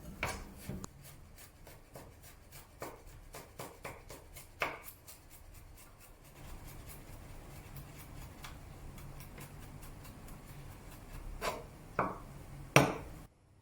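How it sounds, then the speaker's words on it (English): A knife rough-chops two garlic cloves on a cutting board, making a fast run of steady, close ticking taps that thin out into a few louder, scattered knocks. "Rough chop 2 cloves of garlic."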